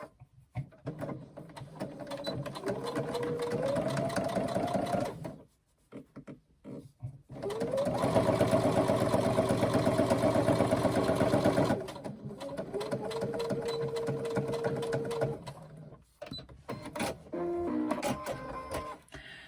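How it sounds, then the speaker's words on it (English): An industrial sewing machine top stitches a handbag in long whirring bursts that stop and restart, with brief pauses and small handling clicks between runs, close and loud. "I'm going to go away to my industrial and do my top stitching"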